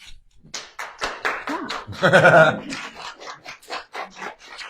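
Scattered clapping from a small audience after a presentation at a 1 Million Cups Billings gathering, a sparse, uneven patter of hands with a brief voice and a moment of rustling in the middle.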